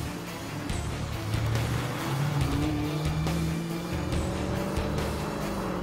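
A 2015 Dodge Challenger SRT muscle car engine snarls and revs loudly and close, its pitch rising and falling through several throttle swells with a steady rumbling roar throughout.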